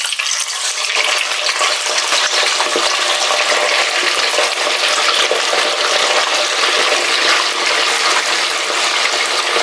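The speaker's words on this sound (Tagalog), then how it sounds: "Before kong pakuluan sa gata, ipiprito ko muna siya no, para mas masarap." Catfish frying in a hot pan, a dense, steady sizzle with faint crackles and stirring, close and loud, no talk.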